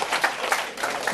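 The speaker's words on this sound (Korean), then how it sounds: "박수 한번 쳐줘야지 이럴 때" Short burst of applause from students at a high school lecture, a quick patter of clapping hands heard close and fairly loud.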